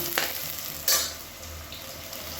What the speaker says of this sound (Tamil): வெங்காயம் நல்லா பொன்னிறமாக வதங்கணும்